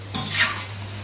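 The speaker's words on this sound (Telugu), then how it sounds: "ఇప్పుడు మన పకోడీ ఫ్రై అవుతుంది కదండి." Egg pakoda frying in oil makes a short burst of crackling sizzle that swells and then settles into a steady bubbling hiss, with an electrical hum underneath.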